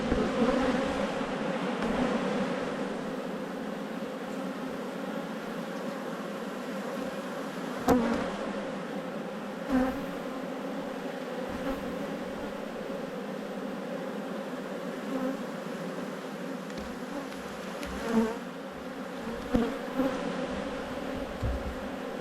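Honey bees buzz steadily around an opened hive, a dense close drone that persists throughout, with occasional knocks and handling sounds and no talk.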